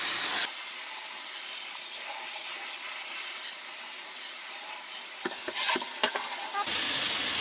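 A sink sprayer rinses cleaner out of a dirty K&N air filter, a continuous splashing water hiss that holds steady for several seconds, with a few brief rattles near the end before it stops.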